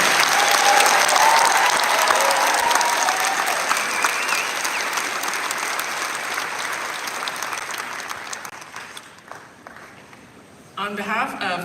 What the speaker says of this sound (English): why don't we give them a round of applause for making it here today?